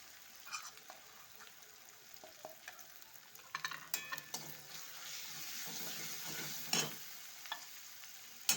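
Ground spices such as cumin and chili powder are stirred into a hot frying pan, with faint sizzling and a series of scraping and clinking spoon strokes, louder toward the end.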